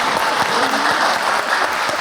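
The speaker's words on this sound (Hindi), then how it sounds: "बहुत सारी तालियां।" Studio audience on a Pakistani television talk show applauds, a dense, loud, continuous clapping that fills the whole moment with no one speaking over it.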